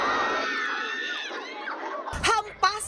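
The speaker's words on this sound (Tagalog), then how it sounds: "Hampasan at hiyawan from start to end." A movie audience at a horror film screening breaks out in a swell of mixed voices and then bursts into sharp, loud screams and shrieks near the end.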